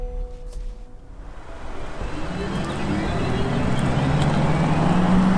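A Volkswagen ID.4 77 kWh electric car pulls away quietly, a soft electric whine and tyre and road noise building steadily from near silence into an even rushing hum.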